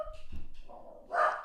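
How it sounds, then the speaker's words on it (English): A dog barks indoors, a few short, faint barks and yips in quick succession heard from a little way off. "Sorry, excuse my dog, wait until he's gone quiet."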